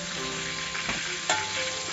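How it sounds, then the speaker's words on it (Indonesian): Tempeh frying in hot oil, a dense, steady sizzle heard close up with a few brief clinks and stirring sounds, no talking. "Goreng tempe."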